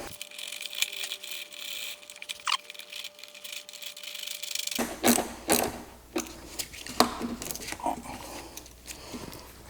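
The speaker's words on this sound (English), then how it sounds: "bring my clamp that I'm using, bring it across and tighten it down" Hose clamp being tightened on the air box of a Mazda RX-7 FD during an air filter swap: close, rapid ratcheting clicks and mechanical rattles in bursts, with a faint steady hum early on.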